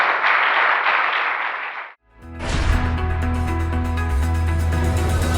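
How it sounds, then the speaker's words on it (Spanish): Congregation in an evangelical church service bursting into applause for the Lord, a dense clapping wash for about two seconds that stops abruptly, followed by loud sustained music. "Dale un aplauso al Señor."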